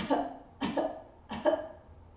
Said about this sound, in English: find a little coughing action